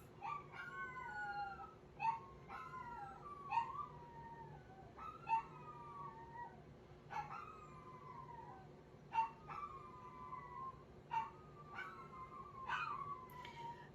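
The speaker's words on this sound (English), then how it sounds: "And now my dogs are gonna howl." Several dogs howl in long, wavering, rising and falling calls, repeated in overlapping bouts at moderate distance over a steady low hum.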